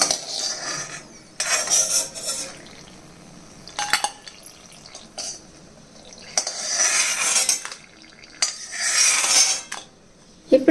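Fried dried red chillies are scraped from a pan onto a plate in several bursts of rattling, scraping metal and spatula clatter, separated by short quiet gaps.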